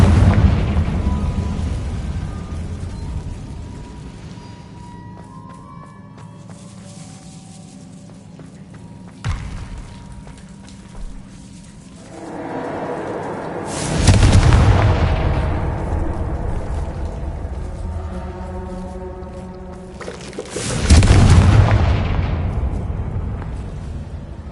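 Blasting-spell explosions from Hogwarts Legacy go off over a low rumbling game soundscape, with two big booming bursts that roll out and fade over several seconds.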